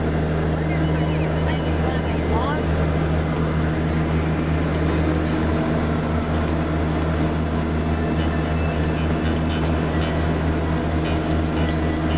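A twin-engine propeller aircraft with 800-horsepower engines on each side drones steadily in flight, a loud, unbroken engine hum that fills the whole stretch.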